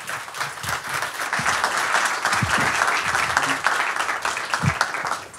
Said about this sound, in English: And a big round of applause to Håkan.